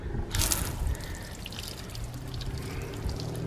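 Water from a hose flooding over car paint treated with a sealant, a steady splashing pour and running sheet of water with a louder gush at the start, close and continuous, no talking.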